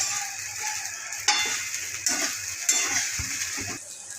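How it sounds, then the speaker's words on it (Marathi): Sabudana and potatoes stir-fried in a pan for sago potato khichdi, with a steady sizzle broken by several distinct scraping clinks of the spoon against the pan, close and moderately loud. "आता यात साबुदाणा घालून साबुदाणा छानसे परतवून घ्यायचे।"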